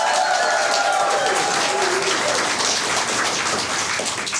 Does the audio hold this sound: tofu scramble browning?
no